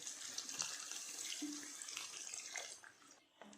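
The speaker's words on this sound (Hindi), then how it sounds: "इस वक्त हम इसमें पानी डाल देते हैं।" Water runs steadily into a pot of softened tomatoes cooking on a high flame for tomato soup, a faint continuous splashing pour lasting a few seconds before tapering off, with no voices.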